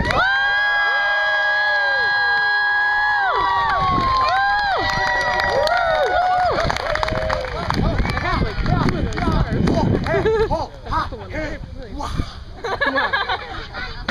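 A live-show crowd in Enfield, 2016, cheers and shouts loudly, with high whoops and screams at first, then a dense roar of cheering and clapping that eases slightly toward the end.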